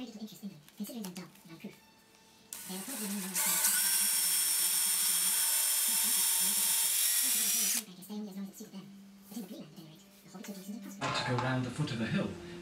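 A high-pitched power drill whines loudly for about four seconds drilling holes in a wooden table, with speech before and after and a shorter burst of drilling near the end.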